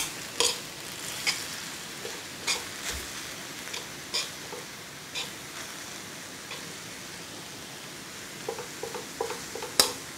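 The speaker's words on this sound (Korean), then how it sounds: "이렇게 해서 불고기를 구우시고" Marinated bulgogi beef sizzling as it grills in a pan: a soft, continuous frying hiss with scattered spatters and occasional stirring clicks, quiet and close, with no voices.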